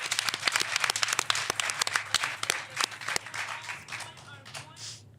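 Audience applause closes a quiz-show round between school teams: sharp, distinct handclaps from a modest group, close and fairly loud, thinning out and dying away near the end, with some cheering voices underneath.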